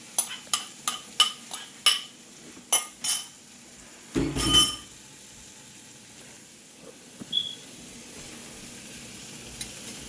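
Onions go into a pan for chicken fried rice: a run of sharp metallic clinks and scrapes of a utensil against the pan, then a short burst of sizzle, trailing into quieter occasional taps.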